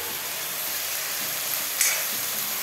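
Pasta with chopped onions stirred in a hot pan, a steady close sizzle with a brief scrape of the spoon partway through.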